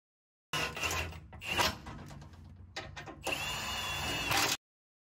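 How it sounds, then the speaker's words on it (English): A ratchet tightens the bolts of an Adams front driveshaft on a Jeep Wrangler JK. Bursts of quick, close metallic clicking come in short strokes, then one longer continuous run. "ratchet to tighten these things up"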